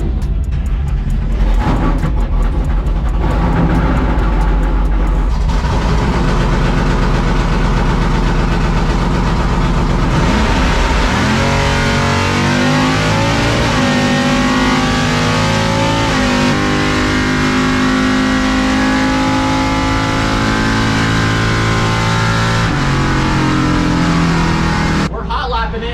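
A C10 drag truck's engine roars through a test pass at a nostalgia drag race, loud and sustained, climbing through revs with gear changes, then dropping off sharply at the end, with a voice talking over it.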